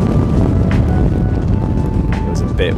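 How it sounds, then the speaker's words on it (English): Steady, heavy wind buffeting the microphone in a continuous low roar on the Royal Dornoch golf course, with faint brief voices and a few high chirpy sounds near the end. "Look at that wind!"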